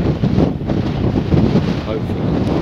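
Strong wind buffeting the microphone outdoors on a partridge shoot, a loud continuous roar with gusty surges, under indistinct talk.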